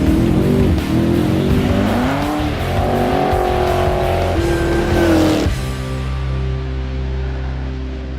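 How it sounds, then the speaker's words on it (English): Race cars roar past loudly and close, engines revving and shifting pitch as tires squeal through a corner, then the noise settles into a lower steady drone, with no talking. "seeing and hearing the cars in action"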